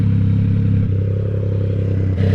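A Yamaha motorcycle idles steadily with a low, even thrum and a faint ticking clatter, close and alone, with a small dip partway through.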